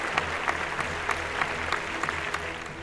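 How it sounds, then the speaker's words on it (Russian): Concert audience applauding a baritone, a dense continuous wash of clapping with scattered sharper claps, steady and full throughout with no speech. "От аплодисментов бурных, суматошных, до скандежа, потом крики «Браво! Би!»"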